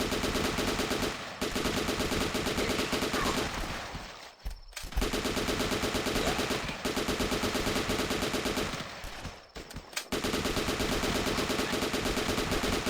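Rapid automatic gunfire from a gun in the video game The Last Stand, dense and loud, with two short pauses that sound like reloads.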